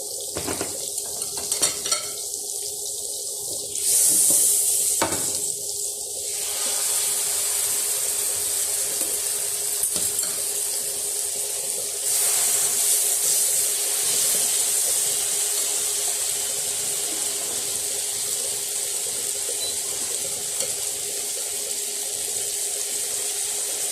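Chicken breasts frying in oil and butter in a pan, a loud, steady sizzling hiss that runs throughout, with a few clatters and knocks early on as the meat goes in.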